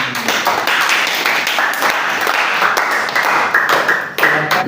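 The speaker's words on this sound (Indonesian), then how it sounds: "tepuk tangan untuk para gentleman" An audience applauds after a group presentation, with a steady burst of hand clapping lasting several seconds at close to moderate distance.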